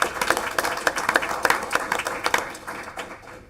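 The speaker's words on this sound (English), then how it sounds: "give a round of applause to the bus drivers" A meeting room audience at a school board meeting gives a round of applause for bus drivers, a loud burst of dense clapping that slowly thins and fades toward the end.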